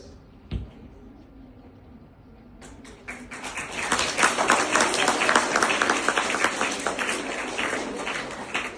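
An audience in a hall bursts into applause during a retired police officer's speech, building from a faint murmur and a single tap into loud, sustained clapping from many hands.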